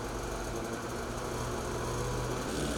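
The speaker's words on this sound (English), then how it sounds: "start the engine again and apply a small amount of throttle until the track turns slowly for at least 5 revolutions" Polaris Patriot 9R snowmobile engine idling under light throttle while the track turns slowly, a steady, close buzzing drone holding an even level throughout with no voices.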